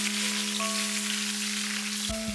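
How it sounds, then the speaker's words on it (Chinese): Marinated eggplant stir-fries in a wok, giving off a steady, close sizzling hiss over a constant low tonal hum. A brief knock or scrape sounds near the end, and no one speaks. "把茄子里面的水分炒出来。"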